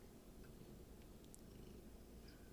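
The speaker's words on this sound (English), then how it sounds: "He's just happy. He's purring." Faint, low, continuous purring from a cat rumbles steadily with slight rhythmic pulsing, close and quiet, with no talking.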